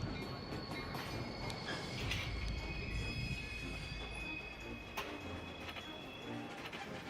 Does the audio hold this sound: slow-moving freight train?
yes